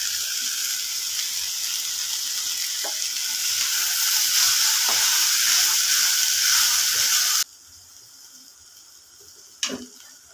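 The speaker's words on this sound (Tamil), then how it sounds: "கத்திரிக்காய் நல்லா ஃப்ரை ஆயிடுச்சுங்க." Capsicum and brinjal frying in a pan make a steady, close sizzle with faint stirring clicks, then the hiss drops away abruptly, leaving quiet room noise and a brief clatter near the end.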